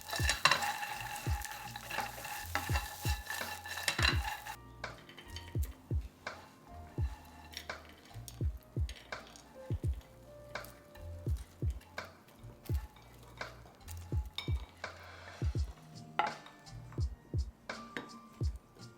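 Vegan prik khing with textured soy protein and sliced red chilli is stir-fried in a pan. A spatula taps and scrapes in a steady rhythm over a soft sizzle that fades after the first few seconds, close up and without speech.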